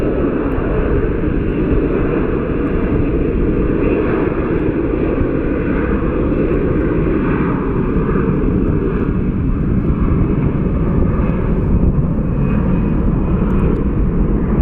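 A Frontier Airlines jet in Crockett the Raccoon livery departs Phoenix Sky Harbor, its engines holding a loud, steady roar throughout, close and with no talking.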